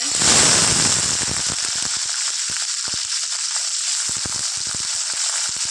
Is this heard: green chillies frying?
yes